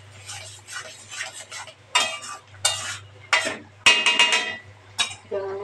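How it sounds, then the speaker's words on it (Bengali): Onions, green chilies and fried green chili paste are stirred in a pan with a metal spatula. Sharp scrapes and clinks come in close, uneven bursts over a low background hum. "একটু নেড়ে দেবো।"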